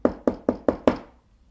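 Knocking on a table: five sharp, evenly spaced wooden knocks in quick succession, close and fairly loud, the last slightly stronger and ringing out before silence.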